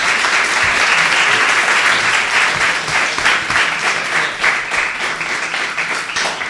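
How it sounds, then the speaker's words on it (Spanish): Audience applause at a book presentation for the author and editor of Minilibros de Sonora, dense and loud clapping continuing steadily from start to finish before slowly thinning. "Pedimos un aplauso para el maestro Esteban."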